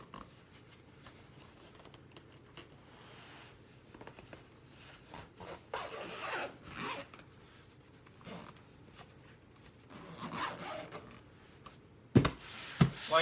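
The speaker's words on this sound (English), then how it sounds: "Let's zip it up." A model train carry case, a Proto Power West/A-Line Hobby-Tote, is zipped shut with bursts of zipper rasping and handling rubs, growing louder toward the end and ending in a sharp close knock, with no talk.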